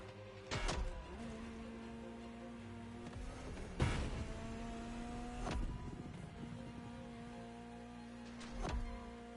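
A Ferrari engine in a video game hums at steady pitch, with sharp clunks and brief revs at intervals; mechanical and close, no voices.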